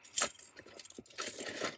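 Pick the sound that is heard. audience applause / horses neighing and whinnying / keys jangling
keys jangling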